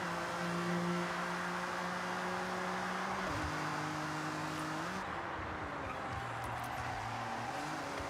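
Forza edition Mazda Miata in Forza Horizon 6, its engine droning steadily with pitch steps as gears shift, a continuous loud whir sustained throughout with no talking.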